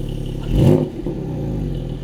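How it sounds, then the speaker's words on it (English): A 2022 Porsche 718 Cayman GTS 4.0 engine gives one short rev swell over a close, steady idle rumble. "So start it up, let's check it out. This thing sounds nice. Rev it up a little bit."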